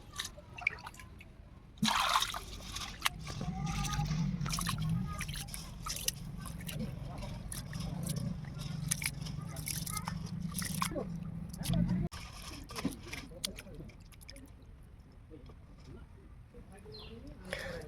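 Rice being washed by hand in a bowl of water: steady sloshing and swishing with drips and trickles, fairly close, running continuously for about ten seconds before settling into lighter splashes and drips.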